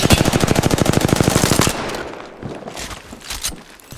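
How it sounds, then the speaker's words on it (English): Rapid automatic gunfire rattles in a fast, even burst for about a second and a half in an Apex Legends match, then gives way to scattered single shots and softer clatter. "They're shooting at me."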